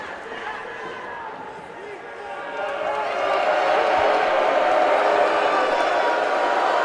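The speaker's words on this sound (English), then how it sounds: "Listen to this crowd here." A wrestling show audience roars in a steady wash of cheering and chatter that swells louder partway through, with voices talking over the noise.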